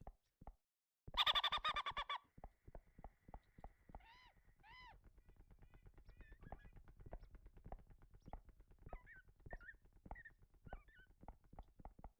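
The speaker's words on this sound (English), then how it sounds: "I heard a crazy bird." Bird calling in the Minecraft video game, several warbling chirps over a rapid regular clatter of footsteps, with a loud burst of noise near the start.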